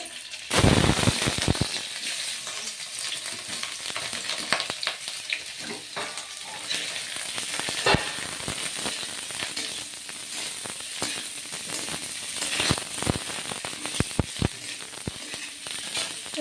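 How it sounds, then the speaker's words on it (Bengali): Paneer cubes frying lightly in hot oil in a pan for homemade palak paneer, a steady close sizzle broken by sharp spattering pops and crackles, with no talking. "পনিরটা হালকা আঁচড়ে ভেজে নেব, হালকা ভেজে নেব।"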